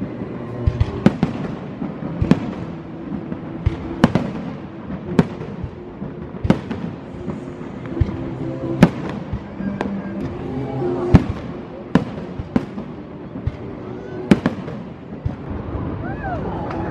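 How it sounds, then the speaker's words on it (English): Fireworks burst in the night sky with a series of sharp, loud bangs spaced a second or two apart. Crackling and the murmur of a crowd carry on underneath, and some people talk between the blasts. "fireworks. Super exciting."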